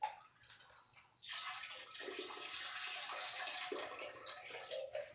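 Water tipped from a cup into a toilet, splashing as a broad steady rush for several seconds after a brief first pour, close by with no talk.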